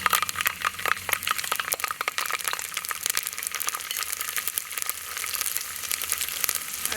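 Mustard seeds and separated garlic cloves frying in hot oil for Tamil garlic rasam, a steady close sizzle dotted with quick popping crackles throughout, no talking.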